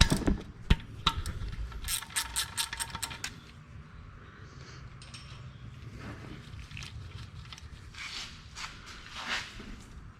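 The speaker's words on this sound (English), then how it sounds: "we're going to be using a gear wrench or just a regular wrench if you don't have gear wrenches" A gear wrench ratchets in a quick run of clicks during a Pontiac Grand Prix oil change, followed by quieter, faint clinks and handling noises in a garage.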